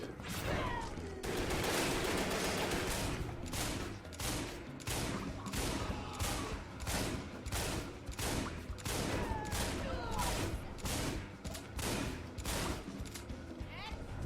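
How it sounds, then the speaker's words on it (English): Shotgun blasts in the action video game Wet, a rapid string of sharp, loud bursts layered with game action and someone talking throughout. "Switch to the shotgun, see if that does me any better here."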